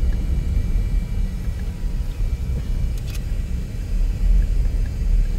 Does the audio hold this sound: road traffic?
yes